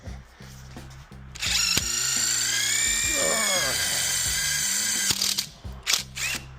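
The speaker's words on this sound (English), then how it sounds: "I'm going to go ahead and drill it out and put some nut certs in there" A power drill whines loudly for several seconds, its pitch wavering as it drills out a broken metal bolt on a mini bike, with clicks and mechanical rattles before and after.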